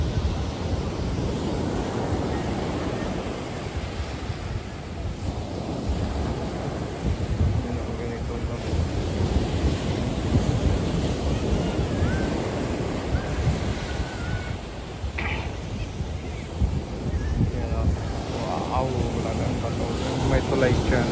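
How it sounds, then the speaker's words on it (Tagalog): Heavy surf crashes and rumbles continuously on a beach, with wind buffeting the microphone; a voice talks faintly now and then beneath the steady roar of waves. "Lalakas ng alon doon, oh."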